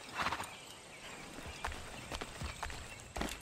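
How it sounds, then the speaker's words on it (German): Horse hooves clip-clop in an uneven walking rhythm in the video game Assassin's Creed 3, with scattered sharp clicks and rustling around them. "Ah, okay, bloß ein Pferd."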